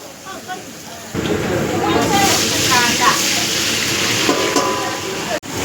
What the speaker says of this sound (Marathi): कांदा लसूण अद्रक थोडं भाजून देतो, नंतर टमाटर टाकतो